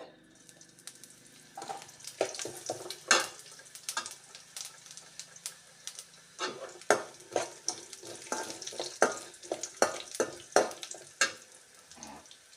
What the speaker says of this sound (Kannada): ಯಾಲಕ್ಕಿ ಮತ್ತು ಲವಂಗ ಇದಿಷ್ಟನ್ನು ಹುರಿತಾ ಇದ್ದೀನಿ ಸ್ವಲ್ಪ ಎಣ್ಣೆ ಹಾಕ್ಕೊಂಡು